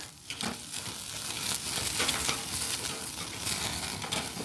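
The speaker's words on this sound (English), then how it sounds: "we will just go right onto the grill grate with that. And we'll let it all sizzle up for a while" Steady, loud sizzling of steak on a wood-fired grill grate, a continuous crackling hiss with small pops throughout.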